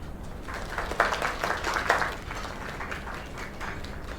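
A small crowd gives a brief round of applause at a gathering, scattered claps peaking early and then fading into a low murmur.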